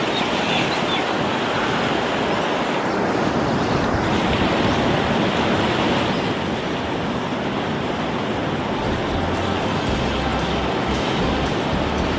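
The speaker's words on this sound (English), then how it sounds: "We're at Hot Water Beach." Ocean surf rolls in steadily at Hot Water Beach in New Zealand, a loud continuous wash of breaking waves with wind buffeting the microphone throughout and no voices.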